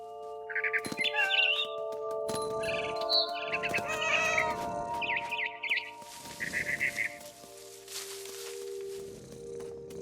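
A cat meows repeatedly in the video game What Remains of Edith Finch, short, insistent calls with brief pauses, fairly close and clear, over a faint steady background tone.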